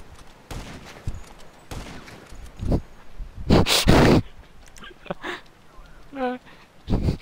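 Gunfire in GTA Online, with a few loud shots and bursts landing among game noise while people talk over it, including a loud cluster in the middle of the clip.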